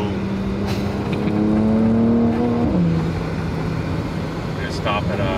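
A car engine drones steadily through its exhaust after the exhaust button is pressed, then drops in pitch partway through, with voices faintly underneath.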